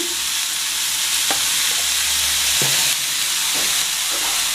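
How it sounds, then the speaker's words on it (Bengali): Shingara vegetables fry loudly in a pan, a strong close hiss with repeated scraping stirs and knocks of a spatula every second or so. "সবজিগুলো দিয়ে দিচ্ছি। দেখুন সবজিগুলো ভাজা হয়ে গেছে আমার।"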